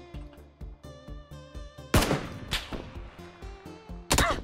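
Sharp gunshots fired at the player in PUBG, two loud cracks about two seconds apart standing out over a steady rhythmic music bed, with no talking.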